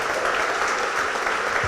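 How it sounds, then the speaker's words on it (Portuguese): Steady applause from a church congregation praising during a worship service, dense and continuous throughout with no voices on top. "Você pode aplaudir ao Senhor?"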